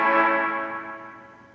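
A single guitar chord through an Epiphone Valve Jr. tube amp with a Bitmo B-verb digital reverb, ringing bright and full, then trailing off in a smooth reverberant decay over about a second and a half.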